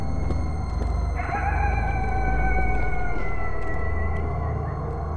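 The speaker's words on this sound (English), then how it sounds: "You guys hear those coyotes?" Coyotes howl at night at an abandoned zoo in Griffith Park, Los Angeles, rising wavering wails layered over each other at a distance above a steady low background hum.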